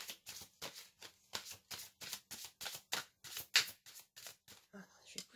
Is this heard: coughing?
no